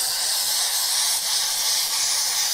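An Iwata Eclipse airbrush with a 0.35 nozzle sprays at just over 20 psi, giving a steady, close, unbroken hiss of air and paint for the whole moment.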